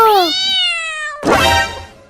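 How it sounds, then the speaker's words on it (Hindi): Two drawn-out cat meows close by, the first rising then falling, the second harsher and more strained, with no talking. "वो बिल्ली बोल रही है मुझे भी खिला दो"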